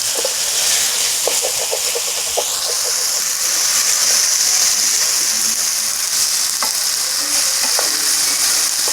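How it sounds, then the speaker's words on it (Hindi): Dal roasting in a hot pan for dal mash, a loud continuous sizzle and hiss with scattered scraping stirs and small pops, close and unbroken, no voices. "अब दाल को हम 2-3 मिनट के लिए अच्छे तरीके से भूनेंगे इसको"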